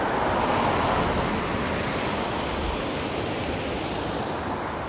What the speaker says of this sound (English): That sound of rushing water